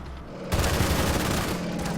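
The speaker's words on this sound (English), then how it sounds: "We have some heavy infantry firing mortars." Mortars fired by heavy infantry in the Order of Battle war game burst out as a sudden loud, dense volley of booms that sustains and rumbles on after the first blast.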